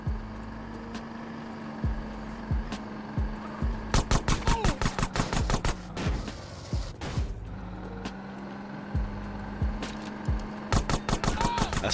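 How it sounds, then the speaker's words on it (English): Gunfire rattles through GTA San Andreas, with bursts of rapid shots and single cracks over a steady engine drone and the whoosh of passing vehicles. "Stop shooting me."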